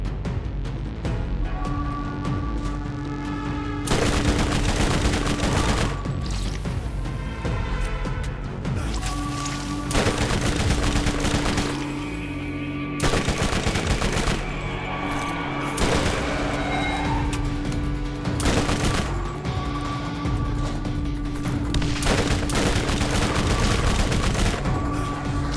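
Rapid SMG fire and grenade blasts from Borderlands GOTY Edition, played as Mordecai, come in dense loud bursts with booming explosions and steady game background sound, with no talk over them.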